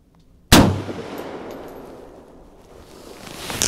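A single loud AR 47 rifle shot firing Wolf Classic ammunition at an outdoor range, a sharp crack followed by a long, slowly fading echoing tail, with no voices.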